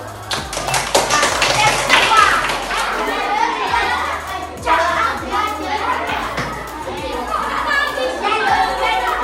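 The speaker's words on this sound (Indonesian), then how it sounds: "Tepuk tangan untuk kelompok 3." Children in a classroom clap for a group in quick, uneven bursts, with some taps close by. Kids chatter and talk over the clapping throughout.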